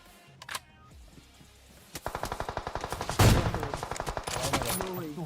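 Sniper fire in a PUBG Mobile match, a sharp shot early on followed by a rapid train of loud rhythmic gunfire bursts, close and dense, with a brief vocal exclamation.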